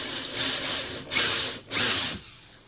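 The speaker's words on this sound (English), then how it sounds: "Once you get used to using your drill" A small power drill bores into a press-on nail stand in a few short, whining bursts that swell and fade, close up and without talk.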